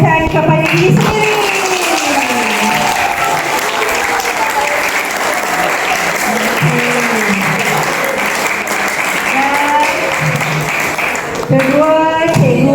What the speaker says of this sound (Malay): beri tepukan kepada diri sendiri